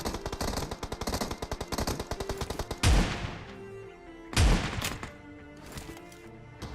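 A gunfight in the PUBG Mobile video game opens with a rapid burst of automatic machine gun fire, followed by two heavy single blasts with trailing echoes. The shots are loud and close, with no talking.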